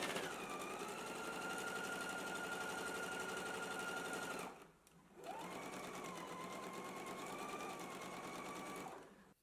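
A sewing machine runs steadily while stitching a garment seam at a 5/8-inch allowance, a continuous whirring hum that stops briefly midway before resuming.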